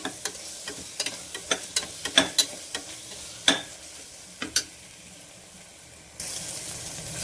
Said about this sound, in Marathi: इथं मसाले बघा आपण चांगले भाजून घेतले